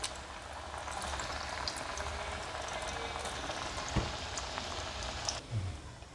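Suji (semolina) sweets fry in hot oil with a steady, close sizzle and crackle that holds throughout, broken by a couple of soft knocks.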